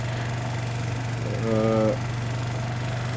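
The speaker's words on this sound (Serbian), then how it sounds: "ovaj dobri, provereni motor iz Libertija" A scooter with a Liberty engine idles with a steady low hum throughout, with a brief voice-like sound rising above it midway.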